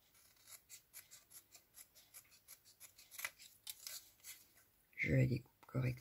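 Scissors cutting paper for a mini album, a quick run of crisp, close, rhythmic snips that grows a little louder, followed by a few louder handling thumps near the end.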